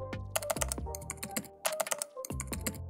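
Quick bursts of keystrokes on a computer keyboard as a search for an indicator is typed, close and crisp, in irregular clusters separated by short pauses, with no voices.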